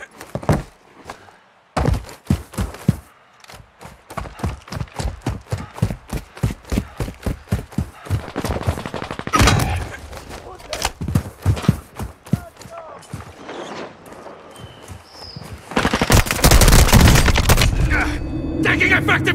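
Gunfire in Call of Duty: Modern Warfare 2 ranked multiplayer: loud, rapid automatic bursts and single shots crack in quick rhythm, building to a dense, sustained fusillade near the end.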